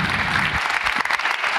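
Brief burst of audience applause at a talk, a dense round of clapping from a modest crowd that thins out within about a second and a half.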